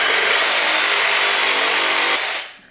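A power tool cuts through beef bone for Instant Pot bone broth, giving a loud, steady, rough buzzing grind that holds for over two seconds before cutting off abruptly.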